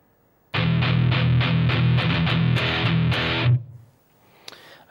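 A distorted electric guitar plays a slow, heavy metal rhythm riff with palm muting, loud and close with a steady chugging pulse, then cuts off into a brief ringing tail and near silence.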